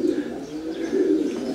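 A female racing pigeon in a Romanian loft coos in low, rolling bursts, close and fairly loud, repeating twice over a soft background.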